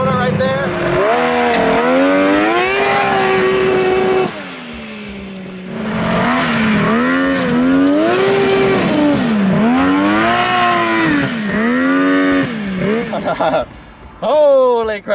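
A custom mini Baja Bug engine revs hard while the car spins donuts, loud and close, its pitch climbing and falling in repeated sweeps with a brief dip before surging again.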